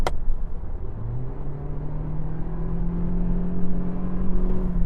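A Toyota Prius hybrid engine drones steadily as the car accelerates, a rising mooing whine climbing in pitch over a constant low road rumble, loud and close.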